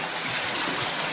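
Rough lake waves wash and churn inside a rocky sea cave at Pictured Rocks on Lake Superior, a steady close broadband rush of water with no voices.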